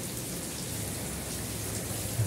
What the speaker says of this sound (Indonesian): Lumayan deras hujannya teman-teman tuh.